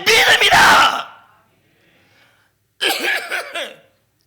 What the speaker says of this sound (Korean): 기침도 크게 나오네요